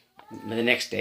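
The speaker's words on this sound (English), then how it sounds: "Sorry about my cat. He's making more noise" A pet cat meows close to the microphone, a drawn-out vocal cry under a person's speech, with brief clinks in the background.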